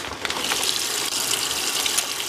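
Water gushing steadily into a washing machine as it fills, a loud, close, continuous rushing spray with no voice.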